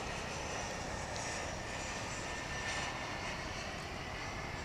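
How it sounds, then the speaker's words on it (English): An Embraer 175 airliner arriving at DFW International Airport from Corpus Christi gives a steady, broad jet roar at moderate distance, holding level for several seconds without voices. "Embraer 175. It's coming in from Corpus Christi in Texas."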